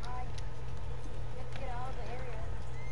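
Horse hooves clip-clopping in Red Dead Redemption, a steady galloping rhythm under a constant low background rumble.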